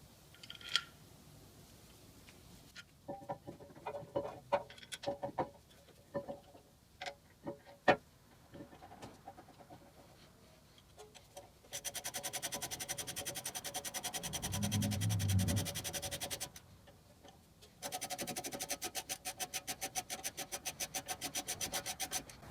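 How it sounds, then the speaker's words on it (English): Hand tools bolting a new brake caliper back onto a 2007 Toyota 4Runner: scattered clicks and taps, then two long stretches of steady rapid ratcheting, close and moderately quiet. "Here's the new caliper. Now we'll bolt it back on."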